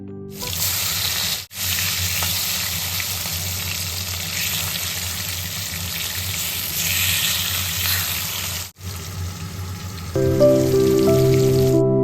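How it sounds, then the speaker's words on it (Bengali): Three pieces of fish fry together in hot oil, giving a steady, dense sizzle that runs nearly unbroken for the whole stretch with two brief dropouts. "তিনটা পিস একসাথে ভেজে নিলাম"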